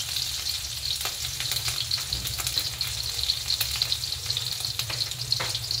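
Garlic or onion frying in a pan of oil left over from cooking hotdogs, a steady close sizzle with crackling bubbles and occasional stirring scrapes, no voices.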